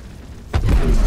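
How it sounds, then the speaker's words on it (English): An explosion in the space game Star Citizen, where a sudden low boom bursts in about halfway through and then rumbles on loud and heavy for the rest of the moment, with no voices over it. "Probably explosion caught something already."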